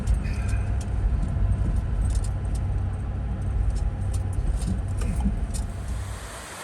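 A truck with a camper rolls over a bumpy mountain dirt road, giving a continuous heavy low engine and road rumble with faint rattling and jangling from loose items inside the cab.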